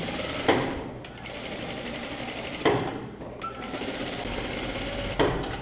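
A sewing machine runs steadily, stitching along a marked line on fabric for trousers, its close, even whir broken by a few sharp clicks as it stops and starts again.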